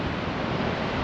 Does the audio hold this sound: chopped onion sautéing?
no